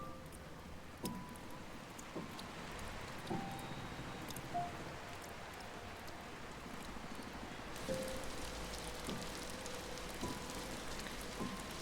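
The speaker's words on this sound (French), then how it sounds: "Oh. Bah, il pleut." Rain falls steadily in the video game Until Then, a soft, constant patter with occasional brighter drops and faint chimes, fairly quiet and with no talking.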